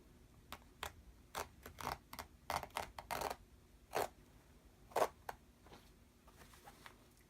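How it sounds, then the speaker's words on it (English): A seam ripper cuts out the stitches of a pair of pants on a flat surface, making quiet irregular snips and small tearing clicks that come in uneven bursts and pauses, close up and faint. "Now we are going to very carefully rip all of this all at once."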